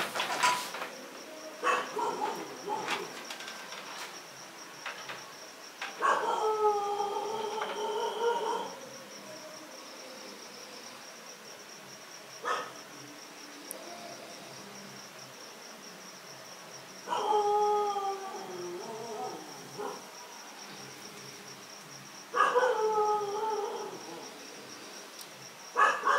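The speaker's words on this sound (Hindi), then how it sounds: "क्या ये कुत्ते का भौंकना आपने चुप कराया?" A dog howls at night in a residential colony, giving several long, wavering howls separated by pauses, with crickets chirping steadily in the background.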